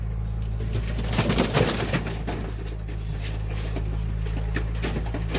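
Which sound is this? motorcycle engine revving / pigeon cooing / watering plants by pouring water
pigeon cooing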